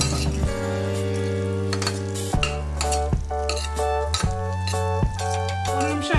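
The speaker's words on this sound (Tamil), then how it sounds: "இந்த கிழங்கு இப்போ நம்ம சேர்த்துக்கலாம் பரட்டி விடலாம்" Potato pieces stir-fried with onions in a pan, with steady sizzling and repeated clinks and scrapes of a metal spoon against the pan throughout, loud and close.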